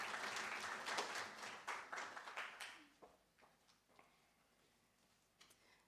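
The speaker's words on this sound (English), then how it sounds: "Can you give a round of applause as Chantal comes in?" An audience at a youth event on the energy crisis applauds as speaker Chantal walks on stage, loud dense clapping that thins out after about three seconds into a few scattered claps.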